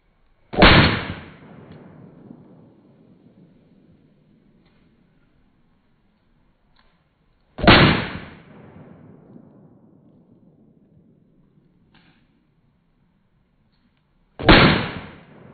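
A 10 millimeter pistol fitted with a compensator fires three loud, sharp shots spaced about seven seconds apart. Each report is followed by a decaying echo that fades into near silence before the next shot.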